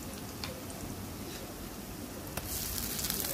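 Onions frying in a pan on a low gas flame for beef curry, a soft, steady hiss of sizzling with faint ticking crackles throughout.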